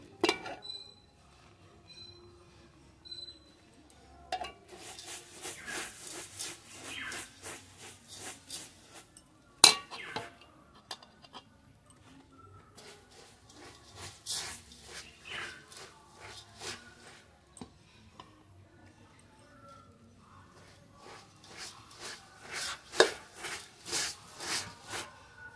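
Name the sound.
mixing puffed rice and popped rice with jaggery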